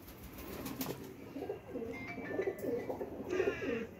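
Several pigeons coo steadily at a rural loft, their low, throaty calls repeating in soft overlapping phrases at moderate distance, with faint bird chirps and occasional wing flutters and no talk.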